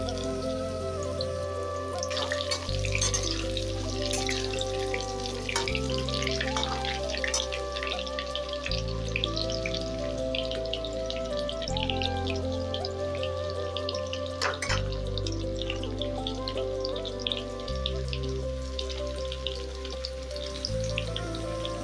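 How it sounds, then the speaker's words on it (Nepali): Chopped jackfruit fries steadily in a pan of hot oil, a dense crackling sizzle with fine pops running continuously, close and even in loudness, while a low background hum with regular steps continues underneath. "अब यो कटर फ्राई गर्न स्टार्ट गरेको"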